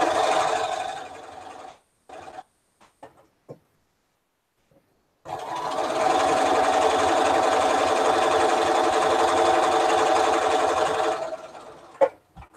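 A sewing machine used for quilting runs in short bursts, then stitches steadily and loudly for about six seconds before stopping, with a few clicks afterward.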